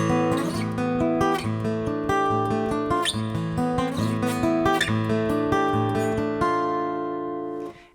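Acoustic guitar plays the bridge of a song as a close, solo passage of strummed and picked chords with steady rhythmic attacks, ringing out and fading at the end.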